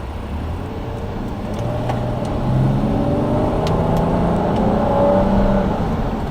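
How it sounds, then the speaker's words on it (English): A 2012 Volvo S60 T6 AWD with a six-cylinder engine accelerates, its close, steady engine roar building gradually and growing slightly louder over several seconds, with no talking. "I forgot just how good the 6-cylinder models sound"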